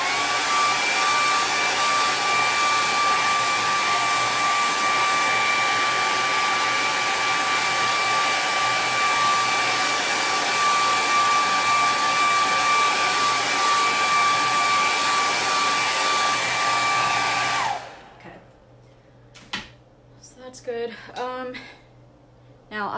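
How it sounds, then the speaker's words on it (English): Handheld blow dryer drying paint on a canvas, a loud steady whine running for most of the stretch before switching off into quiet shuffling and a voice. "So get your handy dandy blow dryer."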